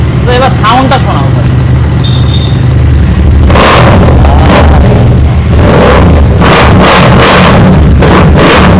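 A 2024 Royal Enfield Super Meteor motorcycle with about 5,000 km on it, revved in loud, rough bursts after a few seconds of nearby talk.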